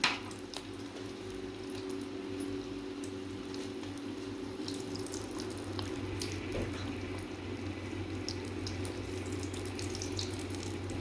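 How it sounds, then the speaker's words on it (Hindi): Mixed vegetable kebab patties fry in hot oil with a steady, close, even sizzle and crackle that holds for the whole stretch, with no voices over it. "अब हम आपको फ्राई करके दिखाते हैं"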